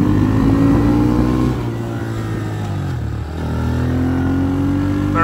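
Honda 110 pit bike revving hard and riding off, its engine close and loud with rising and falling pitch through gear changes, alone without talk.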